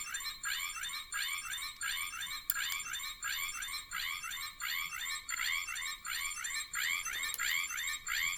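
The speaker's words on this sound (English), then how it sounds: "So first I'll do the sound where you press this button." Top button of a Memorial Edition Dino Brace toy triggering a shrill, warbling electronic sound that repeats in a fast, even pattern for several seconds, loud and close with no voices.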